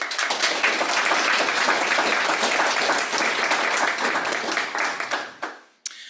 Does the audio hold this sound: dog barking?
no